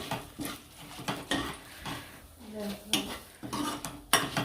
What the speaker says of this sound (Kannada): ಈಗ ಆಲ್ರೆಡಿ ನಾವು ಕಡಲೆಬೇಳೆ ದಾಲ್ಚಿನ್ನಿ ಒಣಮೆಣಸು ಮತ್ತು ಹಿಂಗನ್ನು ಹಾಕಿ ಹುರ್ಕೋತಾ ಇದ್ದೀವಿ